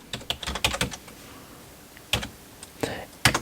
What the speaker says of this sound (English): we're going to grab our keyboard, and we're going to type in the following